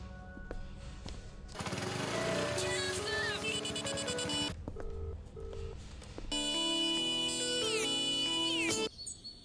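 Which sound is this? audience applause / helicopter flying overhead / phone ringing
phone ringing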